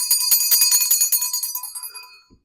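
A small handheld bell rung in a quick series of bright, ringing strikes close by, the tones fading out over about two seconds, followed by a soft thump.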